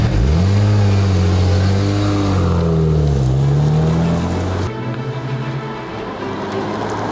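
A BMW 1 Series M Coupé engine revs loudly up close, its pitch rising and dipping over several seconds before settling abruptly to a lower steady drone.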